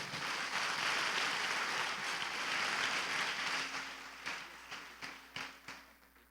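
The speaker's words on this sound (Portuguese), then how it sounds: "Calorosa salva de palmas." Warm applause from a church congregation welcoming a pastor at a family seminary service, a dense, fairly distant wash of clapping that thins out toward the end into a few scattered final claps.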